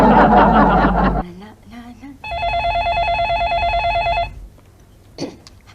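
A telephone bell rings for about two seconds in a sitcom scene, loud and close, after laughter and a brief pause, with a faint chuckle after the ring ends.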